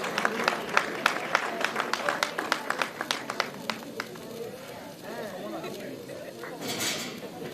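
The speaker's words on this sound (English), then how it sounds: "Please give him a warm round of applause." Audience applause at a journalism awards ceremony in Sierra Leone, a sharp run of scattered close claps that fade into crowd murmur and chatter as a voice speaks over the room.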